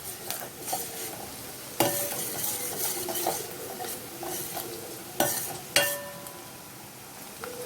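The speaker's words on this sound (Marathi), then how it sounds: "कांदा साधारण 1 ते 2 मिनिटं शिजू द्यायचे।" Onion and crushed garlic sizzle in a pan for a Malvani kulith pithla, with steady frying hiss, close stirring scrapes and a few sharp utensil clinks against the metal.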